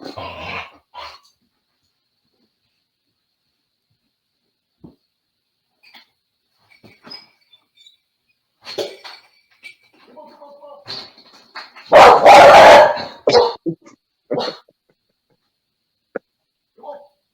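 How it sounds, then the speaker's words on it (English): Dogs fight at home, with scattered growls and whimpers building to a loud burst of snarling and barking, then fading to a few sharp yips, with a person talking in between. "my dogs fight for about an hour every day"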